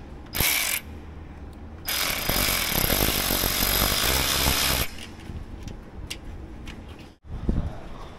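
Ratchet wrench tightening exhaust manifold bolts on a John Deere G series dozer, a dense run of fast clicks in two long bursts with a short one before, close and loud, no talk.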